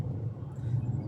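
Low engine rumble of vehicles passing on a busy city road in Parañaque heading toward Baclaran, Philippines, a brief steady drone of traffic close by without clear individual pass-bys.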